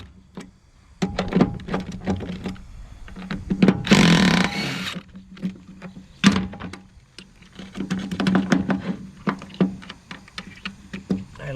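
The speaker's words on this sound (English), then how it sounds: "If I get a punch in there and try not to mess up the threads, and just tap real gently to get it out" A metal punch taps gently to drive a cup out of a Wilwood brake caliper on an M1161 Growler. Sharp light knocks come in uneven clusters, with a brief rush of scraping noise partway through.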